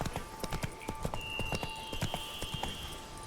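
Roach the horse trots in The Witcher 3 video game, with a run of quick, evenly spaced hoof clip-clops over a faint game ambience and a thin sustained tone.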